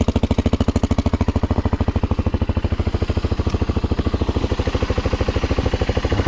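A loud motorcycle engine thumping at a steady, fast pulse throughout, close and continuous, as the rider sets off on a ride through the Atacama desert.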